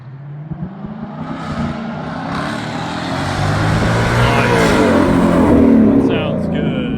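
A 2024 Ford Mustang GT S650 with an X-pipe and muffler delete makes a flyby, its loud exhaust note building and swelling as it passes, with voices talking over it.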